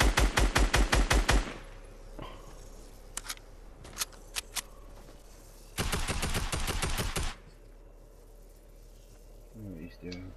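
Rapid bursts of video game gunfire crackle in two loud volleys, a short one at the start and a longer one midway, with scattered single shots between them and faint voices in the background.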